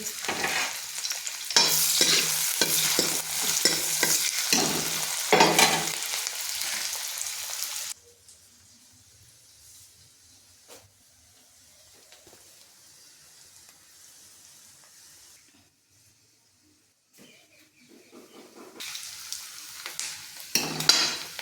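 Onions, tomatoes and chillies go into hot oil for a spicy okra curry, giving loud, busy sizzling and rhythmic stirring that drops to a low simmer, then returns near the end.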